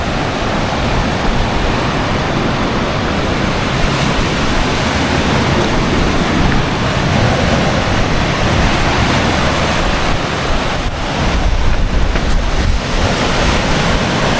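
Waves breaking on the beach at Pantai Batu Pelindung in Kuantan, a loud continuous roar of surf mixed with wind buffeting the microphone, with no voices.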